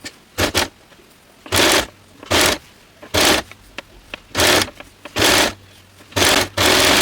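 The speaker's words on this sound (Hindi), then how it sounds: "इस लेस को किरण लेस के ऊपर रखते हुए यहाँ से स्टिचिंग करना स्टार्ट करना है।" A sewing machine stitching lace onto fabric for a potli bag, loud close bursts of rapid mechanical whirring in short runs separated by brief pauses, with a low motor hum between them and no talking.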